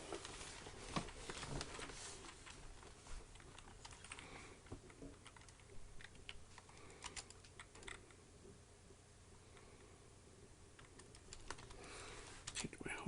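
Computer keyboard typing, heard alone as a steady run of light, quick clicks and taps with brief pauses, close to the microphone against quiet room noise, during a RetroPie 4.6 reinstall on a Raspberry Pi.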